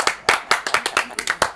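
An audience claps in a short burst, the sharp close claps coming in a quick irregular rhythm over about a second and a half.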